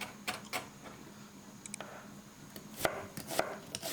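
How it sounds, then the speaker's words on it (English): Vegetables, including onion and tomato, are chopped with a knife for chicken balti, with sharp irregular knife taps on a board, fairly quiet and close, with no talking. "Chop these up nice and fine."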